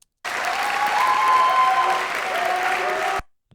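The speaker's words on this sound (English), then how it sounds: "Let's see what this applause does." Recorded applause plays back in a Logic Pro mix: a dense, steady burst of crowd clapping with a few cheering tones, starting abruptly, holding at full level for about three seconds, then cutting off.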